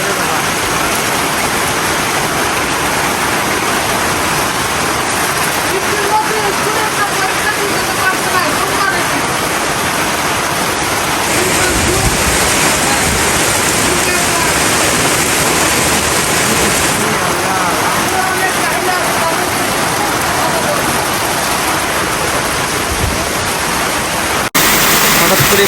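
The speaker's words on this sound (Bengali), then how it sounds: "প্রচুর জোরে বৃষ্টি হচ্ছে।" Heavy rain pours down outside a shop, a loud continuous hiss of water drumming on surfaces that holds steady throughout, with occasional voices faintly beneath it.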